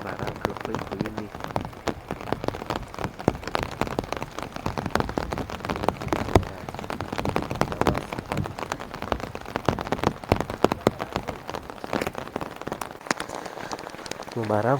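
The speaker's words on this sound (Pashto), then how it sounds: "نو باران خو وینئ چې څونه تېز شو" Heavy rain pours down outside beside a parked car in Afghanistan's Kunar Valley, a constant dense patter of drops that stays loud throughout.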